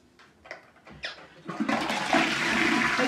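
A toilet flushes close by, starting with a few clicks and knocks of the handle and then a loud, steady rush of water.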